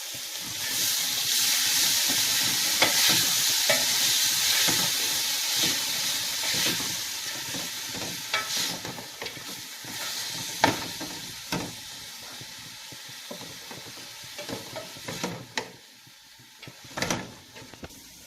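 Onion and garlic sauté in a pan, a steady close sizzle and hiss running throughout, broken by scattered clinks and knocks from stirring, with no voices.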